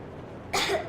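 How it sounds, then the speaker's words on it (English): A girl in a Metro Exodus cutscene gives a single short, close cough after a quiet pause. "I have this cough."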